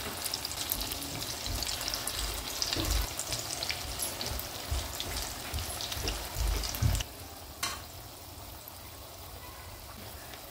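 Fasting pakoda, or bhaji, frying in hot oil give off a dense bubbling sizzle with occasional stirring clatter, loud and close, easing to a softer fizz near the end, no talking.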